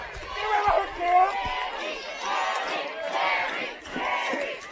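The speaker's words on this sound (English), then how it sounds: "Probably hear the Ball Knob crowd in the background." Baseball crowd at a ballpark during a late inning, a rising and falling roar of cheering voices under a play-by-play commentator.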